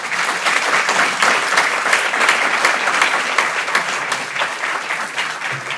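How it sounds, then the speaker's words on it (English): Sustained audience applause at a university doctoral program celebration, a dense, steady wash of many hands clapping, loud and continuous throughout. "Let's give him another round of applause for his leadership."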